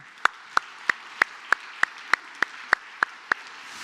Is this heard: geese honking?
no